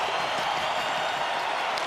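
A hockey crowd roars inside the arena in Montreal during the second period, a broad steady wash of cheering with no breaks.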